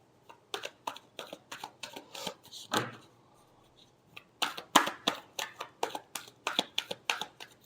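Tarot cards are shuffled by hand in rapid riffling bursts, a run of sharp papery slaps and flutters, pausing briefly midway before a longer quick sequence resumes, close and fairly quiet with no talk.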